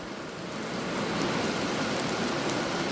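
Steady rain pours down outdoors in a dense, hissing wash that swells slightly and then holds level, close and fairly loud, with no voices.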